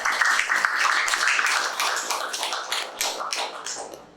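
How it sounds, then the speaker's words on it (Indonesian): A class applauds a student group after its presentation, a lively patter of many close, crisp hand claps that slowly thins and fades toward the end. "Tepuk tangan untuk kelompok 3."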